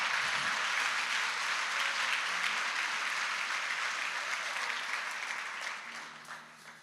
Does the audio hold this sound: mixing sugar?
no